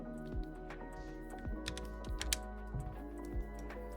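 Typing on a computer keyboard while setting up a flashlight battery system in Unreal Engine 5.6: a near, steady run of light key clicks in an irregular rhythm with no talking.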